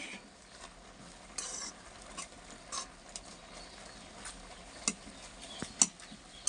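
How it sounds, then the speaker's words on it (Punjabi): Masala stirred into Maggi noodles in a pan, soft close scraping and a few sharp spoon clicks against the metal over a quiet low sizzle, no voices. "ਮਸਾਲੇ ਨੂੰ ਚੰਗੀ ਤਰ੍ਹਾਂ ਕਰ ਦਿੰਨੇ ਆ ਮਿਕਸ"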